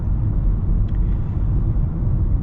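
A 2025 Nissan Leaf electric car accelerating, heard from inside as a loud, steady low road and wind rumble without engine note, no voices.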